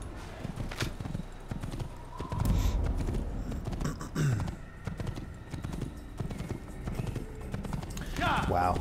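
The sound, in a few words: horse galloping in Assassin's Creed video game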